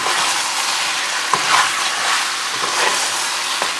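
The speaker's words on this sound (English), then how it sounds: "I'm going to mix this up well." Lamb pieces are stirred and coated with biryani masala in a pan, producing a loud, close hissing sizzle broken by a few scraping knocks from the spoon.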